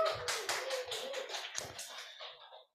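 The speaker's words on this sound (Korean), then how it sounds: "박수 한번 칠까요?" A small church congregation claps briefly after a performance during a Sunday service, a short uneven patter of hands fading out within a few seconds.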